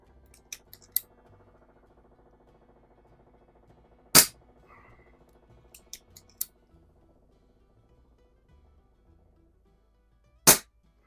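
A .177 Pinty Buster PCP air pistol fires at the edge of a card, with two sharp, distinct shots several seconds apart and faint clicks of handling between them. The setting is quiet and no one speaks.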